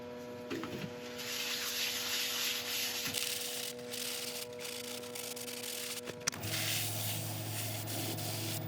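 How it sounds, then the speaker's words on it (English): True Grit abrasive paste is rubbed onto a spinning sequoia redwood turning on a lathe, giving a steady, close hiss of friction over the lathe's constant motor hum, with a brief knock partway through and no talking. "We're going to go on with the True Grit abrasive paste rather than a sealer, and then put the wax on top."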